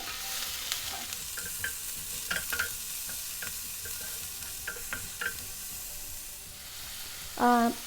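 Onion sautéing in a pan for idli masala, with a steady soft sizzle and repeated scraping stirs of the spoon at an irregular pace, close by and moderately quiet, ending in a brief louder clatter.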